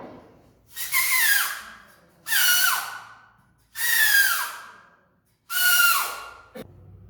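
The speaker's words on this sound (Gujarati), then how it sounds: "એક પ્રકારની કાગળની સિસોટી છે, તેને હું વગાડીશ." A handmade paper whistle blown in four separate long, breathy toots with falling pitch, each about a second long with short gaps between, close and fairly loud with no talk.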